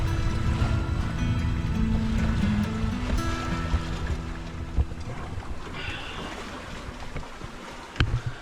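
A sailboat under sail with no engine moves along at close to five knots, carried by a favorable current. Steady water rush and wind noise run the whole way through, with a few brief knocks on board.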